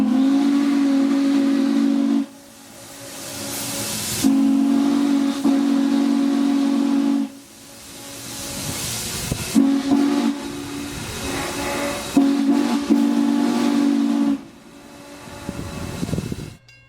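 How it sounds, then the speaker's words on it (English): Norfolk & Western 611 steam locomotive at the Strasburg Railroad sounds its deep ghost whistle in four long, loud blasts, with steam hissing in the short gaps between them. "the train blows the ghost whistle"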